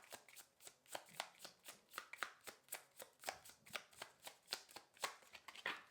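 Tarot cards shuffled by hand in a steady run of crisp, rapid riffling bursts, close and fairly quiet, with no voices.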